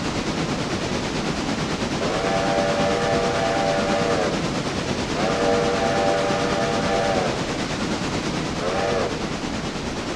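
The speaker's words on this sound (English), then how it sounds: "And then I'll blow the whistle." A train's steam whistle blows three times, two long blasts and a short one, over a constant loud rumble of the moving train near Whittier Depot station.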